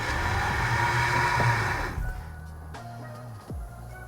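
A 2020 Toyota RAV4 TRD Off-Road revs hard while stuck, with a loud, steady engine drone that abruptly drops off after about two seconds. A lower idle follows, broken by a brief clunk and a short rev near the end.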